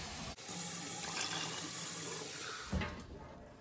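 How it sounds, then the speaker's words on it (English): Tap water pours steadily into a canner being filled for preserving cranberry sauce, a continuous rushing stream close by that cuts out briefly near the start and again near the end, with no talk. "I'm just going to fill up my canner"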